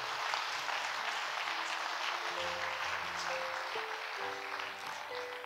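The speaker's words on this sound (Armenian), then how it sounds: "Եկ ծափահարենք սիրելի եկեղեցի։" A church congregation claps together in a steady, dense round of applause, with sustained keyboard tones playing underneath.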